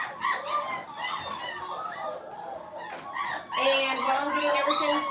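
Hungry puppies about two and a half weeks old yipping and whimpering in high, close, overlapping cries, continuous and fairly loud.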